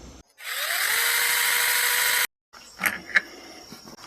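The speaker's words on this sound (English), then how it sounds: "Sounds like metal gears in there." A 21-volt brushless Sainlogic mini chainsaw with a 6-inch cut whirs up to a loud, steady metallic whine for about two seconds, then cuts off. A few clicks and rattles follow.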